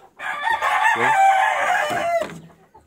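A gamefowl brood cock crows once, loud and close, a long drawn-out call lasting a couple of seconds.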